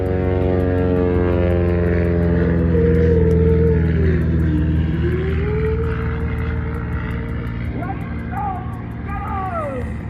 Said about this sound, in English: Plane next to us is leaving.